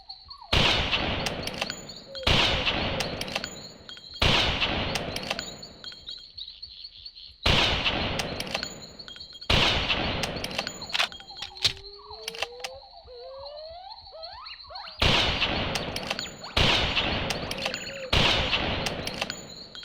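Gunshots fired at a dinosaur in a Carnivores Jurassic Park game, loud sharp blasts in evenly spaced pairs and singles with ringing tails, a high steady tone beneath and animal cries in a quieter gap midway.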